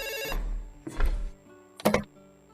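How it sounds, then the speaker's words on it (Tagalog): An old-style telephone bell rings loudly in three bursts with pauses between, in a Filipino radio drama. "Oh, nagri-ring na ang telepono nyo."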